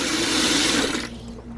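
Water poured from a dish-washing bucket into another bucket, a steady broadband rush and splash lasting about a second before cutting off, close and fairly loud with no talking.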